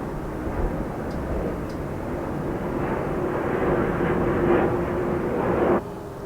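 Military aircraft flying overhead, a broad rumbling roar that swells steadily over several seconds and cuts off sharply near the end, fairly distant and continuous with no speech.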